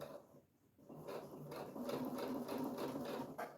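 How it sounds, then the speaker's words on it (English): A sewing machine stitches slowly around a notebook pencil pouch with white thread, a quiet, close mechanical whir with rapid rhythmic ticking that pauses briefly near the start, then runs steadily. "lift the needle down, pivot, and continue sewing all the way around"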